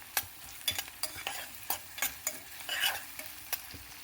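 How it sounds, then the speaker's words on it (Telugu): Ginger-garlic paste fries in a pan while a spoon stirs it, giving a string of sharp scraping strokes every half second or so over a quiet sizzle. "పచ్చివాసన పోయేంత వరకు వేయించుకోవాలన్నమాట"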